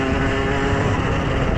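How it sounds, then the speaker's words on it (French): A moped with a 50-70 exhaust pipe on an 80 kit drones loudly and steadily at high revs, a dense buzzing engine note held close with no talking. "Je vais tout simplement parler de pot d'échappement."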